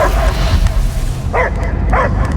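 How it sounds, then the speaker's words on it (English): A dog in the Guardians of the Galaxy video game gives several loud, close barks and yips, with two sharp bursts toward the end over game background sound. "I hear only barking."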